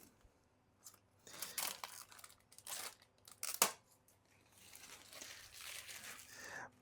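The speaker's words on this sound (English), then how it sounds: "Let's peel these off." Protective plastic film peeled off new Auxbeam Jeep rock lights and spotlights: a run of close crinkling and tearing bursts with short pauses and one sharp snap midway, no talking.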